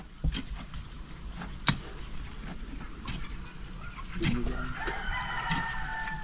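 Chickens cluck in the background while a rooster crows partway through, with sharp clicks and outdoor ambience throughout.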